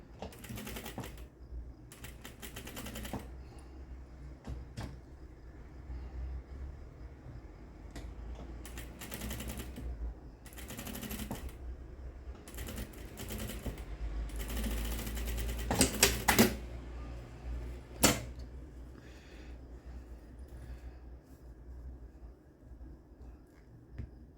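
A sewing machine topstitches a seam over an existing seam while fitting the fly of tailored shorts. It runs in short, uneven bursts of clattering stitches separated by pauses, with a sharper rattling cluster partway through.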